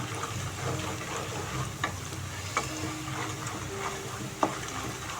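Peanuts, onions, green chillies and crushed garlic fry in hot oil for pulihora, a steady close sizzle broken by a few sharp stirring clinks.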